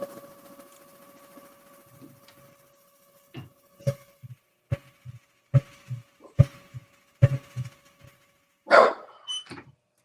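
A dog barks repeatedly in short, sharp, irregular bursts against a quiet indoor background with a faint machine hum, ending in a louder drawn-out howl-like bark.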